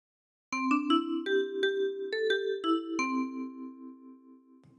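A short Oh Susanna phrase played on a 10-key kalimba: about a dozen bright plucked metal tines in a simple melody, each note ringing and overlapping the next, with the final note sustaining and decaying. Close and clear, no voice.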